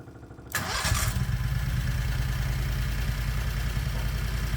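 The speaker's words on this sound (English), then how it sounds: "The engine starts and runs fine." A 670 cc Predator small engine with dual carburetors cranks briefly, catches with a burst, then settles into a steady, even idle that rumbles on close by without any speech.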